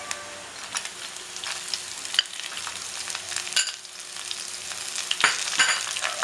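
Onions sizzle steadily in hot oil with dried red chillies and ginger-garlic for an Indo-Burmese mutton uppu curry, with occasional sharper crackles and spatula scrapes, close and continuous with no talking.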